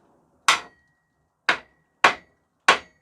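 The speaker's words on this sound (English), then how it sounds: "I mean, you can pound it with no problem." The hammer side of a Skachet bushcraft tool pounds outdoors, four sharp, ringing strikes spaced unevenly, close and loud against silence.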